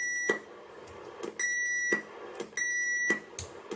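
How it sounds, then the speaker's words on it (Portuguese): Repeated sustained electronic roger beeps from a two-way radio, each held for about half a second, sound in a steady sequence of five with short gaps between them. "lógico que ele pediu um bip alongado"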